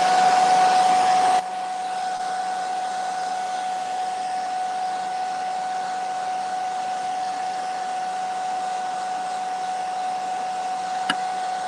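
A hair dryer blows onto painted polymer clay with a steady whining hum, loud at first and then settling to a softer constant drone after a click, running alone for the rest.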